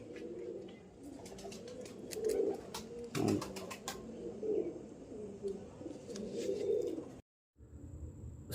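A double mor pigeon coos steadily and close by in repeated throaty phrases, with a brief voice and some clicking sounds over it before a short silent gap.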